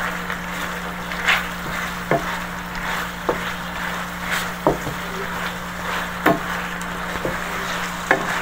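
A spoon stirs pork asado with tomato paste and sugar in a pan, a soft sizzle running under periodic light scrapes and taps against the pan about once a second, close and moderate in level.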